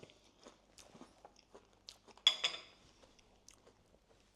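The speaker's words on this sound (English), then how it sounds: "You might be able to hear the crunch." Someone bites into a crispy chocolate hazelnut meringue dessert, giving one sharp crunch among quiet clinks of cutlery and soft chewing.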